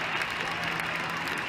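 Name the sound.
ice hockey crowd roaring during a fight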